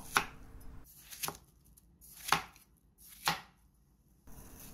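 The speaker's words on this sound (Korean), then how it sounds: "먼저 수박을 적당한 크기로 썰어주세요." A knife chops through watermelon on a board in four or five separate firm thuds, each followed by a short crunchy rasp, with brief quiet gaps between cuts.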